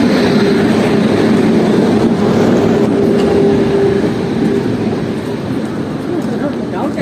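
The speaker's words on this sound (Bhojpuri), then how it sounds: "बहुत देर इंतजार करने के बाद ट्रेन आ चुकी है" A passenger train arrives at a station with a loud, steady rumble and rolling noise that eases slightly toward the end, with crowd voices mixed in.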